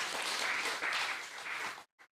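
Brief applause from devotees at a temple gathering, a dense burst of clapping that swells and dips, then cuts off sharply, followed by a single short trailing burst.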